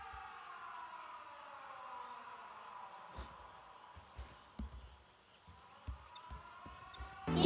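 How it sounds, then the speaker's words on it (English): Sirens wail through a scene in the video game 13 Sentinels: Aegis Rim, a steady sustained tone over a low background, punctuated by several sharp thumps and ending with a louder burst. "The sirens."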